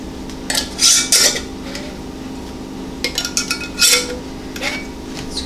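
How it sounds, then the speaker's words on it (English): Metal bands being screwed onto glass canning jars filled with homemade turkey stock: a few bright clinks and scraping metal-on-glass clatters in two short clusters over a low steady hum. "Screw on the bands,"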